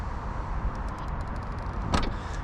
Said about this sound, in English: So to close this rear trunk, press the button like so.